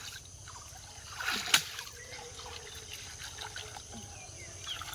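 Things washed in pond water at a village ghat, soft trickling and dribbling with one sharper splash near the middle, quiet and close against a faint outdoor background.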